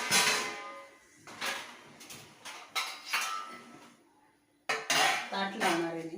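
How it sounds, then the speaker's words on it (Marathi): A thali plate is set out with steel dishes and cutlery: intermittent clinks, taps and clatters of metal bowls being placed down, quiet and close, with short silent gaps between bursts. "ताट लावणार आहे मी."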